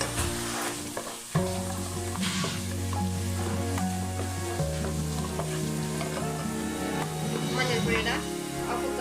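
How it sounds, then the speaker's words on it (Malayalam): Garlic and turmeric powder sauté in a pan for a Kerala-style gooseberry pickle, making a constant sizzle with occasional stirring scrapes beneath steady background music and some voice. "മഞ്ഞൾപ്പൊടി ഇട്ടിട്ട് ഒന്ന് വഴറ്റി കൊടുക്കാം."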